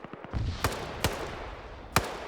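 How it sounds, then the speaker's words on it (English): A few sharp gunshots crack out in a game, three distinct bangs spaced irregularly over a low background rumble. "You gotta hear those gunshots."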